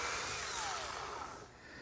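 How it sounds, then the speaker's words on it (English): A power drill with a 3/8 inch bit bores dowel pin holes about an inch deep in wood for a bench, giving a loud steady whirring hum close by that eases slightly toward the end. "Now I'm using a 3/8 inch diameter bit,"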